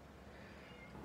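A female cat lets out a short, faint meow as she walks away, heard alone in a quiet room.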